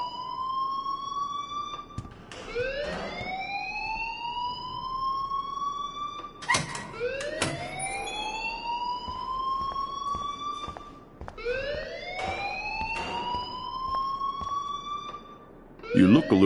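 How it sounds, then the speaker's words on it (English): A repeating electronic alarm sounds in the video game Life is Strange, with loud rising siren-like whoops recurring in cycles and a voice speaking over it. "please turn off that alarm since that's your job"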